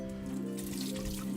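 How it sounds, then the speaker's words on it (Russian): Hot water runs and splashes over hands at a kitchen tap while dough is being made, a soft continuous trickle over a steady background hum. "Руки я мою горячей водой"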